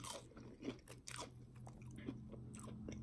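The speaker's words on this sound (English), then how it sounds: "They're crunchy." Crunchy Popeyes Cajun fries with ketchup being bitten and chewed up close, giving a few crisp crunches over a steady low background hum.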